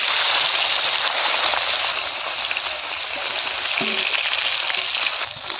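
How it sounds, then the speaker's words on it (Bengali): Salted, turmeric-rubbed bata fish frying in hot oil in a kadai wok, a steady, dense sizzle that holds at an even level from start to finish with no talking. "মাছ ভাজার জন্য কড়াইয়ে তেল দিয়ে দেবো"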